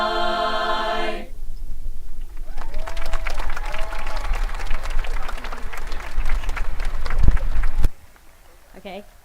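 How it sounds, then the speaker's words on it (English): A crowd at a high school graduation ceremony breaks into loud, sustained clapping and cheering after a musical performance. A tonal voice or note sounds briefly at the start, and the applause cuts off sharply near the end. "join me in another round of applause for these student performers"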